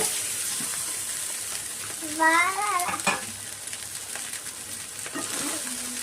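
Egg fried rice being stirred and tossed in a hot pan, road-side cart style, giving a steady sizzle with scraping strokes throughout, while a voice speaks briefly in the middle.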